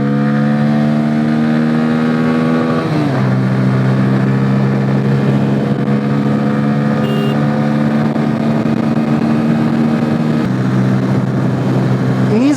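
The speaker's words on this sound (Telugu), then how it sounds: "చాలా బాగుంది ఎగ్జాస్ట్ నోట్ అయితే" A Bajaj Pulsar N160 motorcycle accelerates hard through its gears, its loud, close exhaust note climbing in pitch, dropping at each shift near three and ten seconds, then rising again without a break for about twelve seconds.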